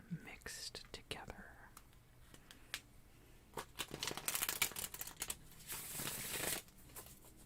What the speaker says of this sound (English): I am going to shuffle the cards a bit just to make sure that they are thoroughly mixed together.